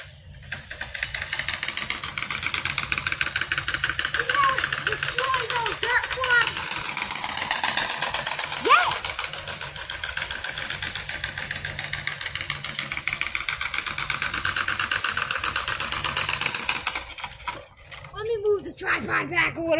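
Old Farmall Cub tractor engine running as it is moved, a steady mid-pitched idling chug with knocking pulses, fairly close, with occasional voices over it and a brief rev change near the end.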